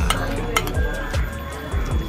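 Metal spoon clinks and scrapes lightly against a plate of rice and egg several times, close and fairly soft, in a quiet room.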